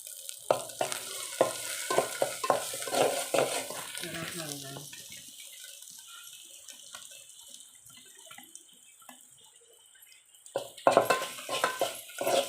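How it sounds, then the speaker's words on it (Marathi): Red chilli masala sautés in oil for a wild alambi mushroom sabji on a wood-fired stove. Bursts of sizzling and scraping stir clatter give way to a long quiet stretch, then the frying noise returns strongly near the end. "त्यानंतर मसाला आपला परतून घ्यायचा आहे त्याच्यामध्ये तेल सुटसपर्यंत"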